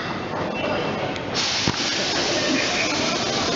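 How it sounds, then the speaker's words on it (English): A South Western Railway train at Richmond station gives a steady, close hissing rumble that carries on throughout, with one brief thump partway through. "Southwest trains at Richmond."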